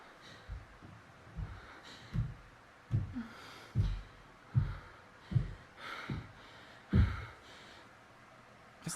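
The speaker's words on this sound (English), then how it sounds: "That's the sound of someone coming upstairs" Footsteps of someone climbing stairs indoors land in a regular rhythm of soft low thuds, about a dozen evenly spaced steps, faint and slightly distant, with no talking.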